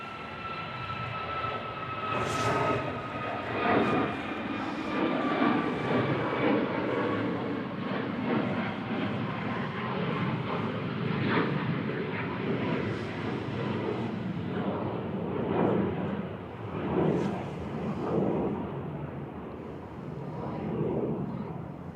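A Ryanair jet airliner at Manchester Airport gives off a fairly faint, continuous engine whine and rumble, with a high tone slowly falling and scattered short bursts of noise across the long stretch.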